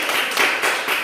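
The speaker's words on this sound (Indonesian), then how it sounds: "Kita tepuk tangan untuk Nesta." Children in an Indonesian primary school classroom clap together for a classmate, a short burst of brisk hand claps with a couple of louder swells, close and dense, no talking over it.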